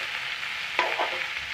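Taro stems and vegetables fry in a pan while being stirred, giving a steady hissing sizzle with a brief soft scrape of the spoon partway through.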